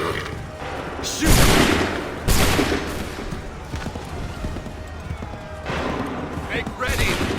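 Musket volleys in the video game Assassin's Creed 3, two loud booming bursts of massed gunfire followed later by more rifle shots, with shouted commands and battlefield noise around them.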